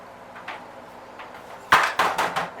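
Toasted walnuts get stirred into banana bread batter in a bowl, a quiet scraping at first, then several sharp, loud clinks and knocks of a spoon against the bowl near the end.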